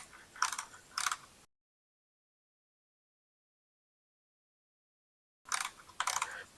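Short Harbor Freight ratchet tool clicking as it tightens backrest bolts on a motorcycle: two brief bursts of quick ratchet clicks near the start, a long silence, then another pair of ratcheting bursts at the end, close and fairly quiet.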